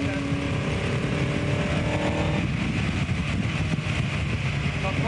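A 1959 Cooper-Climax racing car's engine drones loud and steady from onboard, revving under power with a constant rumbling roar and wind noise throughout.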